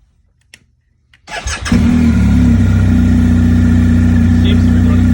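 A 2020 BMW R1250 GSA motorcycle engine cranks and fires after a quiet moment, then settles into a loud, steady idle close by.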